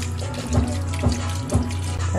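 Tap water runs steadily into a cooking pot while Japanese curry is made, a constant close rushing pour with a few soft surges in the flow.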